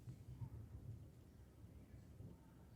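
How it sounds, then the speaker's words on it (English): Low rumble of distant thunder from a local storm rolling on steadily at a quiet level, faint and far off, with a soft rain-like wash and no clear speech. "We have storms in the local area."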